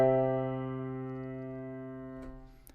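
A single sustained chord rings out in root position with the third on top, its stacked tones decaying slowly over about three seconds, with a faint knock near the end.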